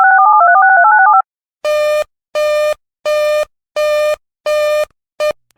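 Emergency Alert System broadcast tones: a warbling two-tone burst followed by five short, loud harmonic beeps in a steady rhythm, then a clipped sixth beep, with no talk.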